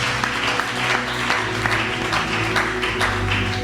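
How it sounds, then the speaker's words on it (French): Applause for the men at a church service, a steady full clapping from a congregation that stays loud and even throughout, with faint voices mixed in. "Acclamez encore pour mes hommes puissants."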